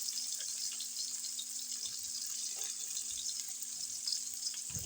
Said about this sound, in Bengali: রান্নার জন্য আমি একেবারেই সামান্য তেলে আর কি করতেছি।